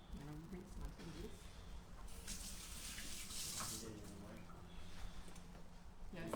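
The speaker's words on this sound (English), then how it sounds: "I'm going to rinse my fingers." Water runs steadily from a kitchen tap as fingers are rinsed, a close, continuous splashing hiss with some talk in the background.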